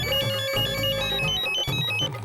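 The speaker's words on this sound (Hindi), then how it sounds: "फोन उठा दया, फोन उठा" A mobile phone plays a loud melodic ringtone, a bright repeating electronic tune with steady notes and a brief pause in the middle, sounding alone without any voices.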